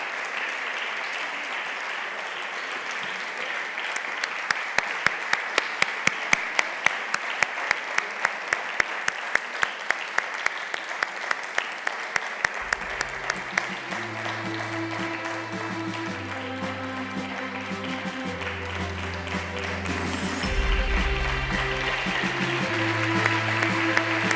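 Audience at the 2023 Igualdad awards gala applauds, a steady roll of clapping that builds and sustains before music enters and plays under it during the second half.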